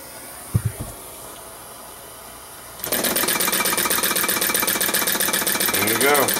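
Model flame engine, quiet at first with a few soft knocks, then running with a rapid, even mechanical chatter that holds steady at close range for the rest of the stretch.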